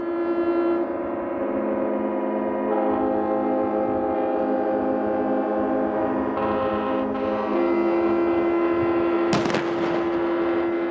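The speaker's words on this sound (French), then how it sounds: "Autre son pour annoncer cette nouvelle tant attendue, les sirènes des bateaux, mais également les klaxons des voitures sorties pour fêter cet instant historique." Ship sirens and car horns sound across Monaco in celebration of a princely birth, a loud, steady, sustained blare of layered horn tones that swells near the end, with no talking.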